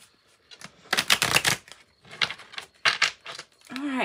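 Tarot and oracle cards being shuffled by hand: several quick bursts of riffling, flapping card noise separated by short pauses, close and crisp, with a brief voice at the end.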